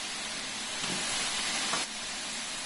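A Stanier 8F steam locomotive in a train simulator lets off a steady, loud broadband hiss of escaping steam. The hiss holds for a couple of seconds and then eases slightly, with no talking.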